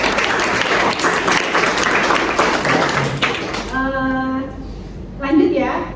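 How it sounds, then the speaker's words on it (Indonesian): A classroom group gives a classmate a round of applause, dense clapping running beneath a teacher's continuing speech for several seconds, then dropping off as a single voice carries on alone. "Tepuk tangan dulu untuk teman yang berikut."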